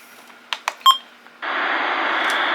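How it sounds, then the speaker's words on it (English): A few short electronic button beeps from a Runningsnail MD329 weather radio, sharp and close, followed by a steady loud burst of radio static hiss. "There's the button beeps, too."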